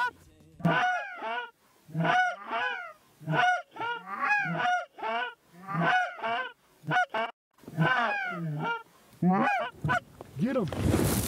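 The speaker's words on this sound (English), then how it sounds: "Big Montana honkers." Canada geese honk in repeated loud bursts during a Montana goose hunt, a flock calling close by in overlapping rhythmic honks with brief gaps, the calls growing busier near the end.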